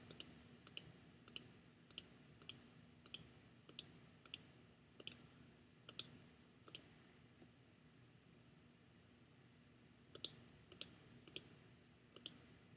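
Computer mouse clicks come in quick sharp bursts while a cutout line is traced around curves for a face swap edit, several evenly spaced clicks, then a pause, then a few more over faint room hiss.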